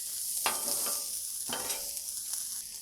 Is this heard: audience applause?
no